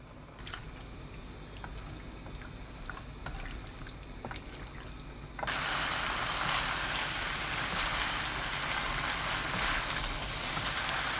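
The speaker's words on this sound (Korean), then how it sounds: "식용유 한 큰술 넣고 센 불로 2분 볶아줍니다." Seasoned young radish and konjac being stir-fried in oil over high heat: a quiet sizzle with sparse crackles and pops, then a sudden louder, steady hissing fry that carries on to the end.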